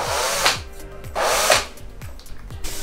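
A power screwdriver drives self-tapping screws into the ceiling of a Gazelle Next van being repaired, giving repeated loud whirring bursts that each end in a short tightening whine, close to the microphone.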